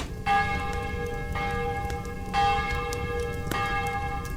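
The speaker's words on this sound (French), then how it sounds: "le tintement de la cloche d'un temple voisin annonça la venue de l'aube." A temple bell ringing, struck four times at even intervals, each clear metallic tone ringing on with long sustained overtones, close and steady over a low background hum.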